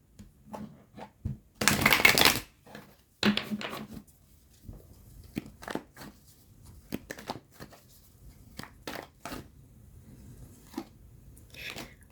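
Tarot cards being handled and shuffled close up, with a loud burst of riffling followed by scattered soft taps, slides and rustles in a quiet room.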